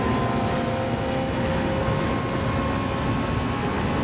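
A car engine whirs as the driver lifts off the throttle in Gran Turismo 7, played in VR on PSVR2. The drone is loud and steady and runs throughout, with no talk over it.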